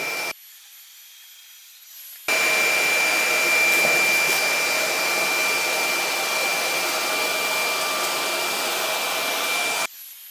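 A Jigoo C300 stick vacuum cleaner whines at maximum suction, a steady broadband roar with a high tonal whistle running for several seconds before cutting off.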